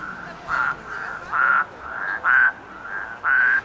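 Artificial frog croaks and bird-like calls play in a forest near Leeuwarden, about seven evenly spaced croaking bursts alternating in a mechanical, repeating rhythm with no talking.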